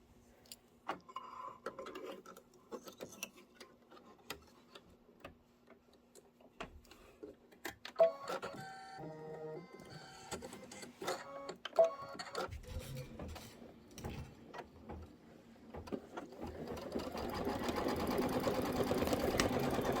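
An embroidery machine stitches a tack-down and quilting design, its fast mechanical ticking and whirring coming in bursts that grow denser and louder toward the end.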